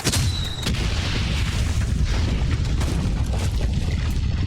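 An ammunition store blows up in the World War I video game Valiant Hearts, a loud, continuous booming roar that rumbles through the whole moment without any voices.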